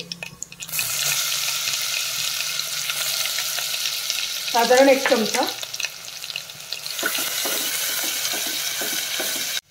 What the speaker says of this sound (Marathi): हिरवी मिरची, भरपूर लसूण, आलं याची मी पेस्ट करून घेतलेली आहे, ती थोडीशी मी आता या फोडणीमध्ये टाकणार आहे।